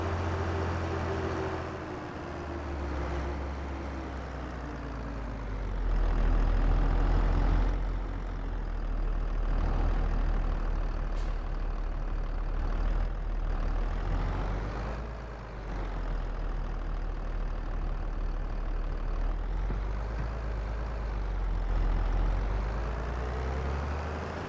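A tractor engine in Farming Simulator 22 drones steadily with a deep low rumble, swelling and easing as it works along a field, close and continuous with no speech over it.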